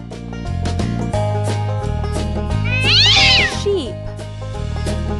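Cat meow from the Lingo Kids farm animals stacking video game, a single drawn-out wavering call near the middle, laid over steady, bouncy game music that plays throughout.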